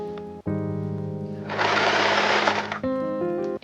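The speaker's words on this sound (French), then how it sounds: "il faut que j'aide ma machine à avancer le tissu" Sewing machine running while stitching fabric with elastic into a patchwork summer shorts, a close, steady mechanical whir with short pauses between bursts, stopping briefly then resuming for a final stretch.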